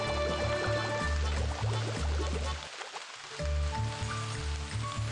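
Steady rain falls in the Cats & Soup idle cooking game, a continuous soft patter layered over looping music with a brief pause midway; no one speaks.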